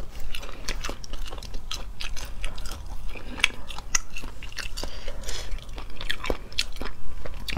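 Close-miked ASMR chewing of crunchy chicken gizzard, with repeated sharp bites and wet, crackling crunches in an uneven rhythm and no talking.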